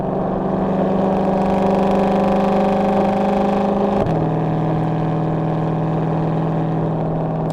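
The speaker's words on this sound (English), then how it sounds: "It sounds even cooler going down a steep hill and hitting the brakes." Ford Shelby GT500 from 2020 with a track exhaust and resonator delete, braking down a steep exit ramp, with a loud, steady engine drone that shifts abruptly midway and then settles into a continuous rumble.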